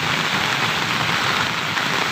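Steady, dense rainfall pours outdoors at a charcoal-burning site, a continuous hiss of drops on surfaces holding even loudness throughout with no voices.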